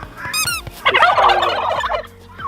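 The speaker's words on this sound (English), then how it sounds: "You know, turkeys, you are quite loud." Four turkeys gobble loudly and close by, a rapid rattling burst of calls followed by a longer warbling gobble, with clicking footsteps or taps underneath.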